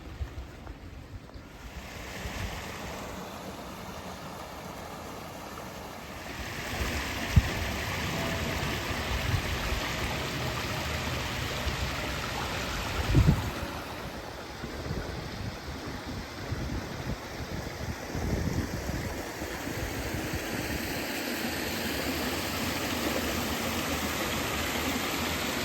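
A river rushes steadily below Kinder Downfall, a continuous broad hiss of flowing water heard close by and mostly alone, with occasional wind gusts.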